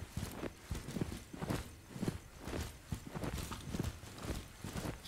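Footsteps in the tactical shooter Ground Branch, a steady run of muffled thudding steps on a hard floor, moderately close, repeating evenly through the stretch with no talking.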